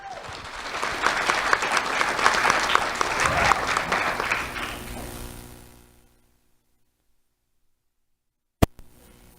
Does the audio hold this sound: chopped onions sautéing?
no